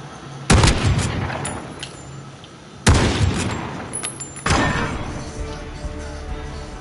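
Gunfire in Call of Duty rings out in three loud, sharp bursts, each followed by a ringing decay, with faint background game noise between shots.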